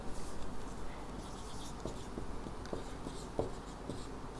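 Pen scratching out a handwritten maths solution on paper, a faint, steady run of short strokes and taps with quiet room noise and no talking.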